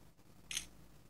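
A single quick, faint phone camera shutter click from a OnePlus 5 smartphone, brief and crisp against a quiet background.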